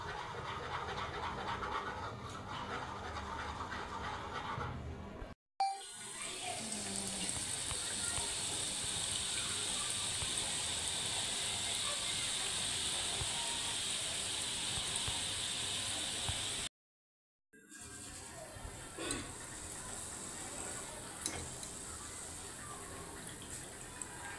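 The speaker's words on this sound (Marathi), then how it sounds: "आता आपण चटणीसाठी थोडेसे बारीक बुंदीसारखं काढून घ्यायचं आहे" Fine boondi drops from batter into hot oil for a Pune-style vada pav chutney. A dense, steady bubbling hiss continues throughout, broken by two brief cuts to silence.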